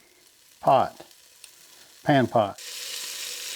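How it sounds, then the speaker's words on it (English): Chopped bacon starts frying in a pot after two short bursts of speech, breaking into a bright, steady sizzling hiss for the last second. "cut up some bacon and add it to the pot"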